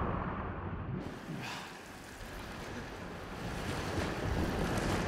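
Rising water sloshing and surging in the horror game Still Wakes The Deep, a steady, loud wash of churning water with windy rushing noise that swells and settles over a few seconds, heard alone.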